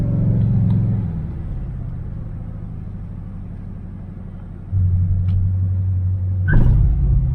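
A 1978 Chevrolet Nova hot rod with a V8 engine drives in low gear with a steady, loud, deep rumble that rises in pitch partway through and ends on a brief rev, with no talking.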